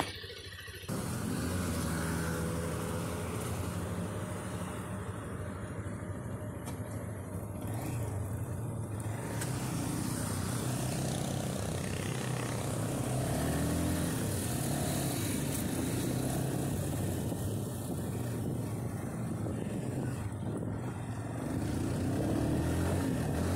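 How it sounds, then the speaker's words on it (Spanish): A SYM NHX 190i motorcycle on a test ride, its engine droning steadily at close range with rising and falling revs and rushing wind noise throughout, no talking. "vamos a poner entonces la motocicleta pues en prueba"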